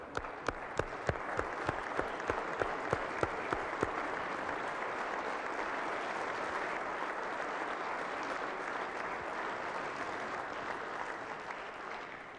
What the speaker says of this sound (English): So please give them a giant round of applause.